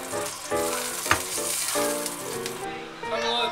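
A thick-cut Costco sirloin steak sizzles loudly in a hot pan, a dense continuous frying hiss up close with a brief sharp crackle partway through and no voices.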